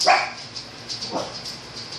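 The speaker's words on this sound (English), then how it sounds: "Sorry about my dogs." A dog barks sharply nearby at the start, followed by fainter yips and whimpers from the dogs over a quiet indoor background.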